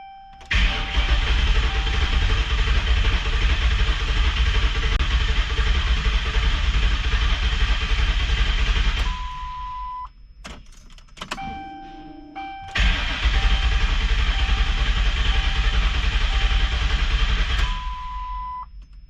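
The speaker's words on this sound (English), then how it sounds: "I'm gonna go ahead and try to crank it over and see what happens." A Ford Crown Victoria with a swapped 7.3 engine cranks over in two long bursts, the starter whirring loudly and steadily for several seconds each time, separated by a quiet pause with faint clicks and beeps.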